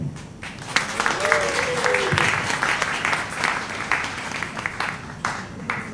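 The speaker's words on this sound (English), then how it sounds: "give a warm round of applause to Shorty, the short-tailed shearwater chip" An audience at an evening science talk in a pub-style venue gives warm applause to welcome a co-host, steady crowd clapping throughout with a brief voice and a few cheers mixed in.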